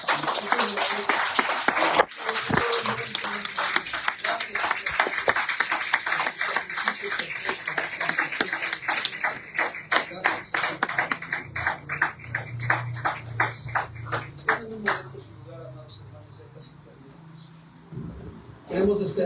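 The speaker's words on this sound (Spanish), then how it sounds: "Denle otro fuerte aplauso." A church congregation at a service applauds with rapid, rhythmic clapping that stays strong before fading out, leaving a low hum and faint background voices.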